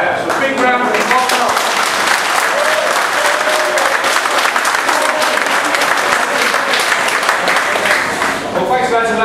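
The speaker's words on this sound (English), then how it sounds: "So a big round of applause." A pub crowd at the Royal Oak claps in a big, sustained round of applause lasting about nine seconds, dense and loud throughout, with faint voices at the start and end.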